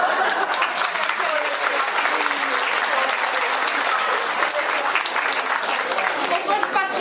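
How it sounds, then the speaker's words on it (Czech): Sustained, dense audience applause for award winners at a local awards gathering, loud and steady throughout, with faint voices mixed into the clapping. "Potlesk patří všem odměněným a blahopřeji k získání ceny."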